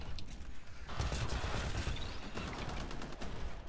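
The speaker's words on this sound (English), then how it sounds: "There's a guy sniping from the rooftops." Gunfire rattles in the Titanfall video game, a fairly quiet stretch of rapid, overlapping shots and mechanical clatter that runs throughout without a break, and no one speaks.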